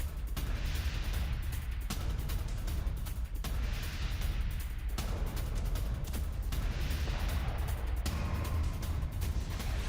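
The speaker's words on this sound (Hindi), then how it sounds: "ये देखिए जरा वाहन में रखे विस्फोट से मिलिट्री कैंप में तबाही" Vehicle-borne IED explosion at a military camp shown in news footage, heard as dense, continuous booming and crackling blasts that repeat in heavy pulses, loud and close, with no clear voices.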